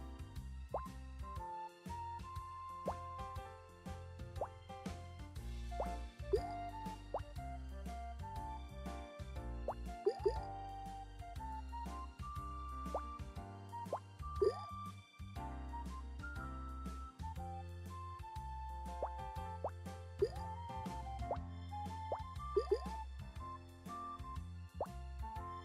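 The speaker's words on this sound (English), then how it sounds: "Sounds kind of like a water drop" Water drop plops from Suika Game, with many short, bright drip sounds popping in irregular succession over steady background music for the whole stretch.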